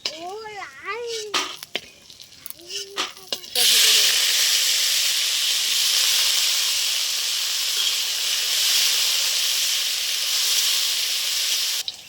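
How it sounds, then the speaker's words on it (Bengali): Bitter gourd pieces frying in oil give a loud, sudden, steady sizzle that starts a few seconds in and continues unbroken. A brief voice is heard before the sizzle begins. "তো উচ্ছেটাও ভাজা হয়ে গেছে, তুলে নিচ্ছি।"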